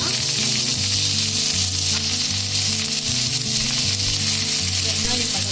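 Sliced onions sizzle loudly in hot oil with whole spices, including cinnamon and star anise, making a continuous frying hiss over steady background music.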